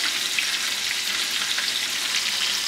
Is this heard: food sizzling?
yes